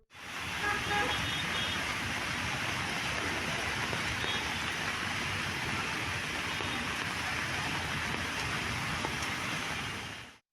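Heavy rain pours steadily onto flooded city roads, a dense continuous hiss that stays loud for the whole stretch, with faint passing vehicles and a brief horn toot in the background.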